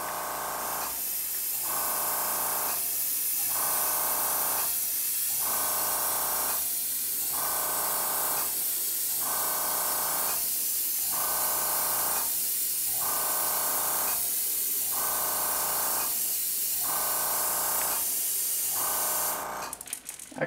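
Airbrush spraying paint onto a Firetiger crankbait fishing lure, a steady close hiss broken by regular short pulses roughly every two seconds, with no talking.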